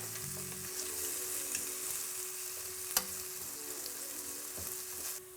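Sweet potatoes frying in a little olive oil to crisp up, a steady close sizzle and hiss running throughout, with a brief clatter of stirring partway through.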